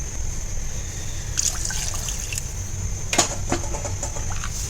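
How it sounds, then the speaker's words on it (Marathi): Water trickles and splashes briefly in a couple of short pours into a pot of raw mango rasam to thin it, over a low steady background hum. "अजून पाणी घालूया आपल्याला"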